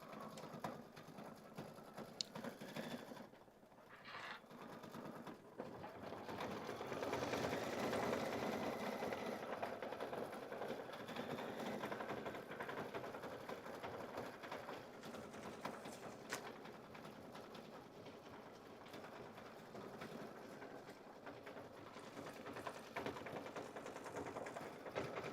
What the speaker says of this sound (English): Now it's going to do the decorative stitch around it.